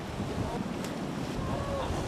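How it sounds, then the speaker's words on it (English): World-class whitewater river rapids rush steadily and loudly, a continuous broadband roar with wind buffeting the microphone, no voices over it. "This river, this is world-class whitewater."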